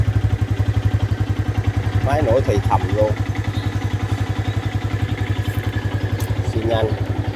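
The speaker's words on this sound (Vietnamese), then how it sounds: "Máy nổ thì thầm luôn" Imported Honda motorcycle engine idling, a steady low pulsing thump held throughout at close range, with brief bursts of speech over it partway through.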